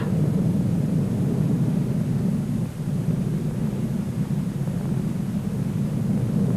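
An Avro Vulcan delta-wing bomber performing loops and half rolls at the Farnborough Air Show produces a continuous, heavy jet roar. The broad rumble holds steady throughout, with only a slight dip midway.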